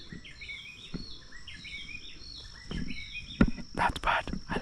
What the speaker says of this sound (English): That bird, I love it so much.